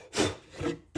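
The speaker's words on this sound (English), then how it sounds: "You're going to want to pre-drill these" A short grinding whir of a drill boring a pilot hole into wood for a wall hook screw, two bursts separated by a pause, close and fairly quiet.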